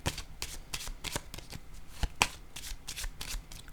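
A deck of cards shuffled by hand close up, repeated quick riffling bursts and snaps in an uneven rhythm, loud and without talking.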